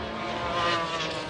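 Race cars, a Porsche 911 GT1 and a TWR, at the 1996 Le Mans 24 Hours roar past in a continuous, loud engine wail that swells and fades briefly, with no voices.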